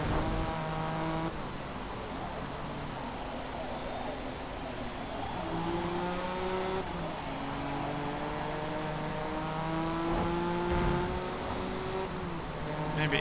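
Race car engine in the Forza Motorsport racing game, droning steadily and shifting pitch upward through gears as it laps the track, with occasional tire noise; loud and continuous throughout.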